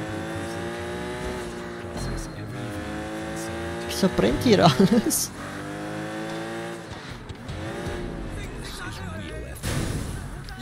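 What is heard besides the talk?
Nissan Skyline car engine and tire squeal, from video game Sleeping Dogs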